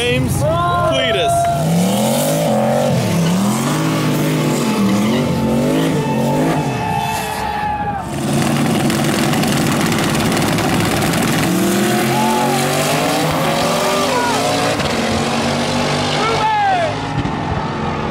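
Drag race cars, including one called El Chromino, roar loudly and continuously nearby, their engines revving up and down and tires squealing, with people talking and shouting over the din.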